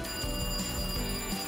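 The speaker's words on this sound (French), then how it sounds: "le téléphone sonne?" A telephone rings in a café setting, a steady buzzing trill repeating in short bursts over a low background hum, moderately loud and with no one speaking.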